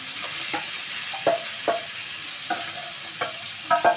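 Dry dates frying in hot ghee for a sugar-free, jaggery-free halwa, with a steady soft sizzle broken by several sharp stirring scrapes and clinks of a spoon against the pan, close and alone with no talking.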